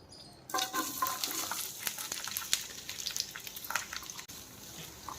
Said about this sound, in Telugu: తర్వాత పెన్నం తీసుకొని దాని మీద 2 స్పూన్లు నెయ్యి వేసుకొని హీట్ చేసుకొని వేపుకుందాం